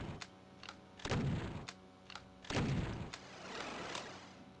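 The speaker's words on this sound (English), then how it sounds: "And we hear something teleport." A teleport effect sounds in a Doom map, a short whooshing burst answered by a second one, each followed by a fading tail, set among sharp sporadic clicks and thuds from gameplay.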